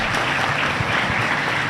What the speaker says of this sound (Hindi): एक बार महापौर जी का तालियां बजाकर स्वागत करें